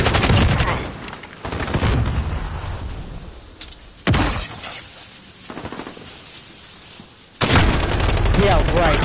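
Gunfire in the survival game Rust: loud, sharp shots and bursts hitting in several separate clusters, echoing and crackling between them, close and dominant.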